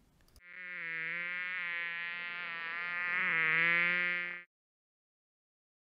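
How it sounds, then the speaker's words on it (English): A single bee buzzes steadily for about four seconds, close and clear against silence, rising slightly in loudness before cutting off. "The Buzzing Bee."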